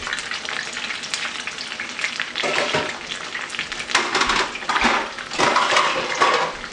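Brinjals (eggplant) frying in hot oil for a peanut curry, a steady crackling sizzle with louder spitting bursts, close and continuous, with faint utensil clinks and no talk.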